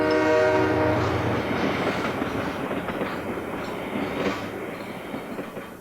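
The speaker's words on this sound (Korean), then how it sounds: "다시 떠나가는 기차 소리가 완전히 사라질 때까지" A departing train sounds a loud horn chord at the start, then rolls away with a continuous rumbling, clattering roar of wheels on rails that gradually grows fainter.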